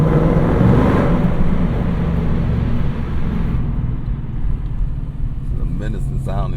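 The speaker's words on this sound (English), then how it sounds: "Menacing sounding V8." 2025 Ford Mustang Dark Horse V8 driving through a tunnel: a loud, enveloping engine rumble echoing off the walls, steady at first and then fading to a lower drone as a voice begins speaking.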